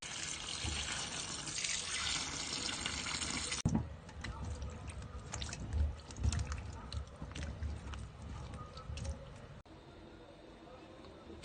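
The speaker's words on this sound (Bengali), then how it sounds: "রুই মাছ দিয়ে লাউ রান্না করার জন্য লাউটাকে কেটে এখন ধুয়ে নিব।" Running tap water pours and splashes over cut bottle gourd pieces in a kitchen, a steady close wash sound with some clatter, ending in quieter trickling.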